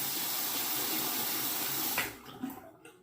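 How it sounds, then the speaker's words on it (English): Tap water running steadily onto a razor in a sink, a loud, close, even rush for two seconds that then cuts off into a few drips and splashes. "Let me wet the razor and get started."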